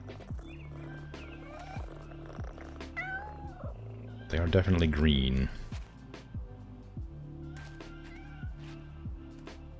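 Cats meow in PowerWash Simulator 2, several short cries scattered under two people chatting, with one louder, drawn-out yowl in the middle against a steady game background hum.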